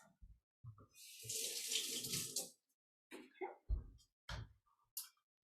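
Tomatoes being washed under a running kitchen tap, a steady rush of water for about a second and a half, then short splashes and rinsing bursts as the fruit is handled, close and moderately loud.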